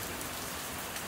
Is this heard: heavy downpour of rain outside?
yes